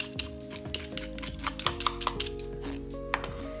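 Fresh ginger finely chopped with a knife on a board, a quick uneven run of sharp close taps over a steady low kitchen hum.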